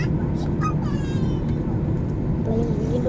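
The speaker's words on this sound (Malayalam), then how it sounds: "പ്ലെയിൻ വീണ്ടും വളയ്ക്കുകയാണ്." An IndiGo airliner in flight banking into a turn gives a loud, steady cabin roar of engine and airflow, heard from inside, with faint talk and brief higher sounds over the drone.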